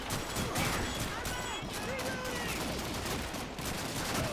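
Mortar blasts and gunfire from the World War II video game Call of Duty 2 crackle in dense, overlapping bursts of shots and impacts throughout, loud and continuous.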